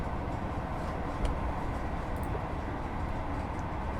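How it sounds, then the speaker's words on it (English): A Class 66 freight locomotive hauling a coal train in a train simulator, a steady low rumble and rolling noise that holds constant throughout with no talk. "A shed on a coal train, probably going to Aberthaw or something."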